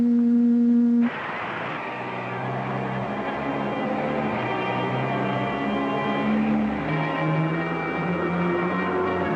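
A sci-fi spaceship's tractor beam gives a sustained electronic hum with steady tonal layers that shift slightly in pitch, loud and continuous after a brief higher tone at the start.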